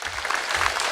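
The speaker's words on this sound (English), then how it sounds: "give Bobby a round of applause" Audience clapping at a Republican rally at the state fair, a brief steady burst of applause from a crowd, fairly loud and continuous.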